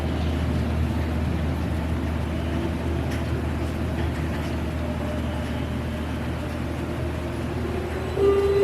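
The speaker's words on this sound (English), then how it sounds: "The train's moving back and forth right now." Ice Breaker roller coaster train at SeaWorld Orlando rolling back and forth on a test run, a steady low mechanical rumble and hum throughout with a slight swell near the end, no talk.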